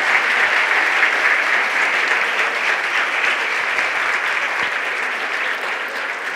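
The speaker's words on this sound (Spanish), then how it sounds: "Otro aplauso muy fuerte para don Lucrecio." Loud, dense audience applause for a guest at a public event fills the whole stretch, holding a strong, even level throughout and easing slightly toward the end, with no clear voices above it.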